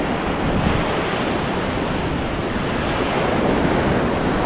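Small ocean waves break on a shore in a continuous, loud wash of surf mixed with wind noise on the microphone.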